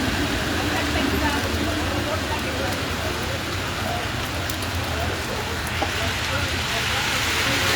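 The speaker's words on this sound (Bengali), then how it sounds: "এখন আবার বৃষ্টিটা বাড়ছে" Heavy rain pours down on a downtown Toronto street near the CN Tower, a steady, dense hiss with no letup and faint traffic rumbling underneath.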